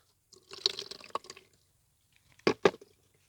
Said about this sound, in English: Now I'm going to pour the microfiber towel in a solution.